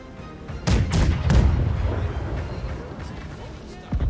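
Ship cannons in the naval combat game Blackwake fire three quick booming shots close together, rumbling low and heavy, then fade before another blast begins at the end.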